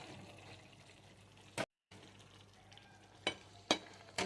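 A soft bubbling simmer from a pan of soya granule masala with green peas, with a few clinks of a spoon stirring against the pot.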